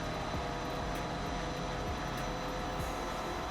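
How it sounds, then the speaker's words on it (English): Jet engine of an F-4 Phantom II spooling up in a combat flight simulator, a steady loud broadband roar with a faint high whine, continuous throughout without talk. "right engine spooling up"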